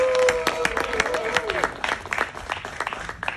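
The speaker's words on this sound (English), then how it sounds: "Applause." A crowd at an outdoor comedy show in Venice Beach claps in a burst that thins into scattered claps, with a voice calling out over the start.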